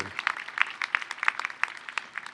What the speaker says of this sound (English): let's give Chair Fong a cheer